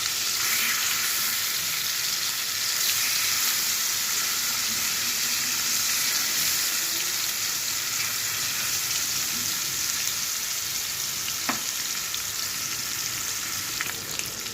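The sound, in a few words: frying hilsa fish pieces in a pan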